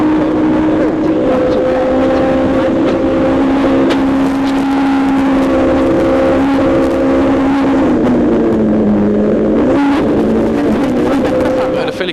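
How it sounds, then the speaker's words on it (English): A high-revving Super 2000 rally car engine roars continuously at close range on a tarmac stage of the 2010 Ulster Rally, its pitch holding steady, then dipping and climbing again as it shifts. "In a high-revving Super 2000, it's just magic."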